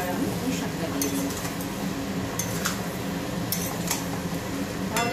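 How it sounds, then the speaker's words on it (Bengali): Malabar spinach being added to mustard paste in a small wok, heard as continuous stirring and scraping with repeated sharp metallic clinks of utensil on pan over a faint steady fan-like hum. "এইবার আমি পুঁই শাকটা দিয়ে দেবো।"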